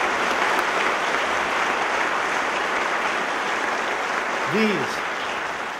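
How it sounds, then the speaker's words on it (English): An audience at a talk on secular values gives a sustained round of applause for military veterans, a loud, even roar of clapping throughout, with a brief vocal sound near the end. "let us now give them a round of applause and thank them for their service"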